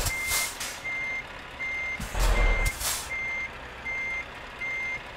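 A Scania 730S truck in Euro Truck Simulator 2 sounds steady, evenly spaced reversing beeps over a low engine rumble, with a brief loud hiss of air in the middle.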